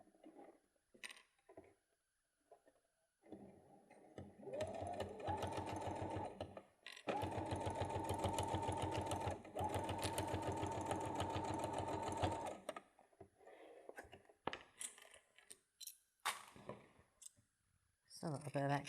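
A sewing machine stitches across a fabric bag in several steady bursts of rapid, rhythmic clatter, pausing briefly between runs, with light handling clicks before and after.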